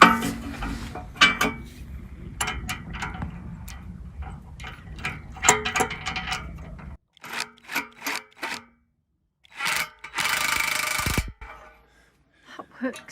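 A ratchet tightens bolts on a steel IWF beam garage frame, making a string of rapid metallic clicks and pawl ratcheting in bursts. The bursts are separated by pauses, with some clanks and a steady scraping noise near the end.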